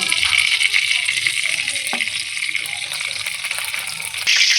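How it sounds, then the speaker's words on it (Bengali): Oil heating in a hot wok for a Bengali shrimp and bitter gourd curry, giving a continuous close sizzle and crackle with a brief clink of utensil and a louder burst near the end. "কড়াই গরম হয়ে গিয়েছে আমি এখানে পরিমাণ মতো তেল দিয়ে দিব"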